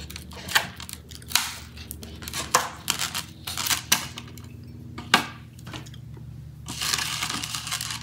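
Warheads Ooze Chewz fruit candy rope being cut in half close to the microphone, with crisp snips, crinkles and handling clicks arriving in irregular bursts, ending in a softer rustle.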